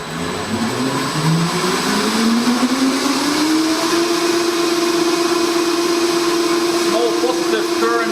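An electric go-kart motor on a hardware-in-the-loop test rig spins up to 500 RPM, its whine rising in pitch over the first few seconds, then holding a steady, loud electric hum with broadband noise.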